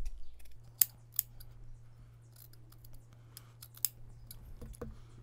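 Scissors cutting a t-shirt into yarn strips, a few sharp snips and crisp clicks scattered over several seconds, close and quiet against a low steady hum.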